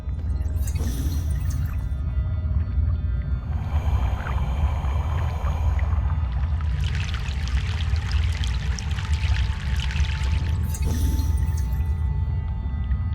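A boat crossing a river in Broken Sword: The Sleeping Dragon, with steady rushing water and churning wake sounds, swelling louder mid-crossing over a constant low rumble.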